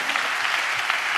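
A church congregation clapping together while praising God, a dense, even burst of applause from many hands, fairly close and steady for the short moment.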